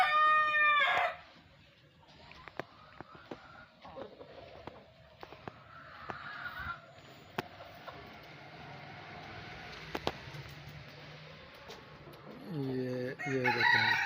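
A Blue Australorp rooster crows loudly at the start and again at the end, with scattered clucking from Blue Australorp hens and farmyard noises in between, faint speech underneath.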